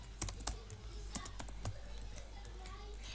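Keys clatter on a computer keyboard as JavaScript code is typed, a quick irregular run of close, crisp clicks with brief pauses between bursts, alone without talk.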